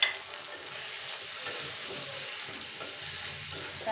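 Cumin and pepper paste with spices going into a pan of frying bhetki fish bones, giving a steady close sizzle with soft stirring scrapes throughout and a few brief clinks.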